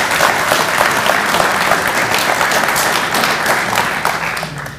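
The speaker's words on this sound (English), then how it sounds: "So a round of applause for those two." Sustained applause from a meeting audience of an astronomy society, many hands clapping steadily and loudly for several seconds before tapering off slightly.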